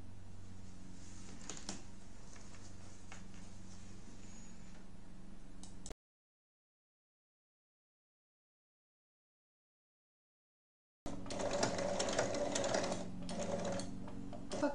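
A sewing machine stitches a small half-moon coin pouch, running steadily for several seconds, cutting out to silence, then starting again at a close, even hum.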